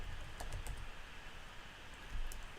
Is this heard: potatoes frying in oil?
no